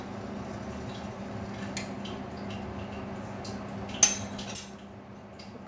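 A metal spoon scooping tea leaves into a pot while making tea, a quiet murmur of the stove underneath and then a bright clink followed by a second lighter tap near the end.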